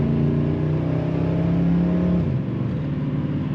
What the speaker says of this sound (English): Nice firm shifts. I like the way this automatic transmission shifts. And the kickdown is working on that transmission.